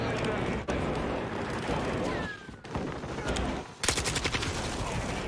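Shotgun and other gunfire crack in a Call of Duty match, dense, loud, repeated blasts packed close together throughout, with a sharp burst near the end.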